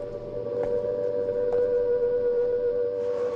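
A steady, sustained civil defense siren tone holds throughout, droning at a constant pitch rather than rising and falling, with a faint hum underneath.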